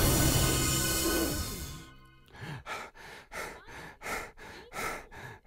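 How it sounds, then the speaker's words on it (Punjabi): Cartoon sound effect of an angry wolf blowing out breath: a long loud rushing exhale, then a rhythmic series of about seven huffing breaths in a row. "ਭੇੜੀਏ ਨੇ ਗੁੱਸੇ ਵਿੱਚ ਆਪਣੇ ਮੂੰਹ ਵਿੱਚੋਂ ਸਾਹ ਛੱਡਿਆ"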